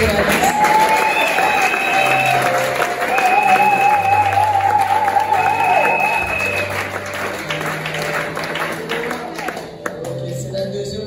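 A church congregation bursts into sustained applause and cheering, a dense wash of clapping that carries on for several seconds while a voice rises over it and music tones sound beneath.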